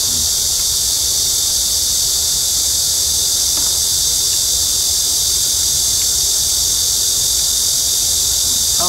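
Dense, loud cicada buzzing fills the air as a constant high-pitched drone, steady and unbroken throughout.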